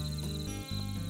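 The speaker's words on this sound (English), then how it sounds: "I hear crickets." Crickets chirp in a steady, high-pitched trill that carries on without a break, with a low hum running underneath.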